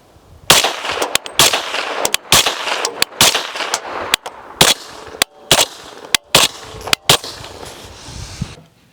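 A suppressed Q Honey Badger rifle in 300 Blackout fires eight shots, supersonic rounds first and then subsonic ones, through a Q Cherry Bomb muzzle device. Each sharp, loud crack is evenly spaced and separated by short silences.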